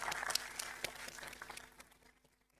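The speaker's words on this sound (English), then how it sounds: "A round of applause for the team." An audience applauds a research team at a National Technology Day event, a brief burst of clapping that thins out and fades away within a couple of seconds.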